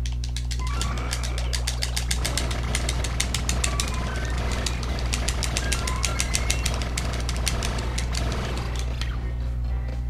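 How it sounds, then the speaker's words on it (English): Drilling through a big rock in the Nintendo game Mario & Luigi: Paper Jam, a loud, steady mechanical hammering with rapid repeated strikes over a low constant hum, continuing for the whole stretch. "You think you can drill through that big ass rock?"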